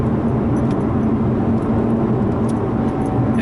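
A 2017 Lotus Evora 400 with a supercharged 3.5-litre Toyota V6 accelerates, giving a loud, steady engine roar heard from inside the car, with no voices over it.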